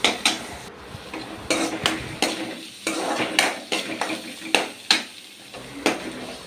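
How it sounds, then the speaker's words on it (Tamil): Beans and vegetables sauté together in a pan for fried rice, a spatula scraping and stirring in regular strokes over a constant sizzle, close and fairly loud. "அடுத்தது இப்போது பீன்ஸ் சேர்த்துக்கிட்டு அதையும் இப்போது ஒன்றா வதக்கிடலாம்"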